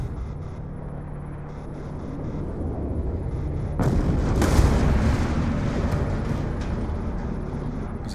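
Heavy gunfire in Call of Duty Black Ops 2, a dense rumbling volley that swells midway into a loud booming burst and keeps roaring on, with no talk over it.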